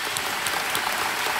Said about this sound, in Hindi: एक बार फिर तालियों के साथ आपका स्वागत करते हैं